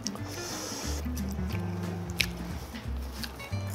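Someone bites into fried chicken dipped in spicy soy sauce, producing close, wet crunching and chewing sounds at a steady level with a low murmur underneath.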